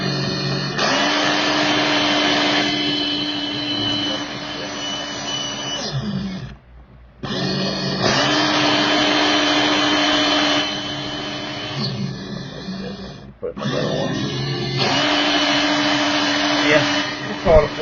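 An AW 2005 Ford Mustang GT Super 3 slot car motor whines loudly at a steady high pitch in three long bursts, separated by brief pauses as the front wheel is tested.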